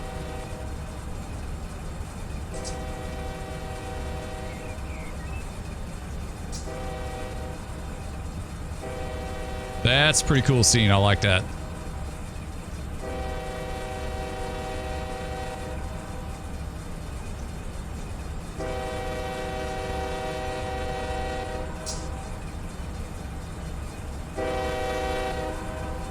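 Freight train X001 in Run 8 Train Simulator, a low continuous multi-engine diesel rumble with repeated sustained horn blasts and a brief loud squeal midway, with someone talking briefly over it.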